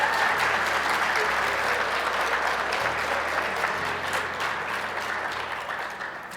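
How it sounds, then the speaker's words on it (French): Audience applause fills a graduation ceremony at the Institut maritime du Québec, a steady, dense clapping from a large crowd that holds loud throughout and tapers slightly at the end, with background music beneath. "C'est là qu'on peut applaudir."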